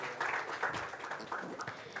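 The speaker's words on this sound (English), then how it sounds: "Let's have a huge round of applause" Audience applause at GFF'25 as speakers including the co-founder and CEO of OneCard are called to the stage, a steady wash of many hands clapping throughout with some voices mixed in.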